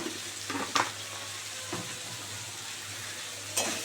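Masala spice paste fries in oil for a bitter gourd and egg curry, a constant hiss broken by a few sharp spatula scrapes and clacks against the pan.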